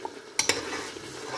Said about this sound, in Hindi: नमक मिर्चें के मसाले सारे, इनको मैं अच्छी तरह से भून लूँगी।